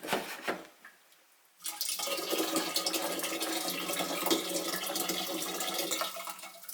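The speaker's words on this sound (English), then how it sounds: "So I'm going to fill up with cold water to the rest of the way." A tap gushes cold water into a brewing vessel for the Public House IPA, starting abruptly after a brief quiet pause with a few splashes and then running steadily and fairly loud to the end.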